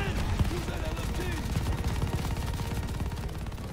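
Sustained automatic gunfire with infinite ammo in the Vanguard game, a rapid, unbroken stream of shots fired close and loud with no pause for reloading.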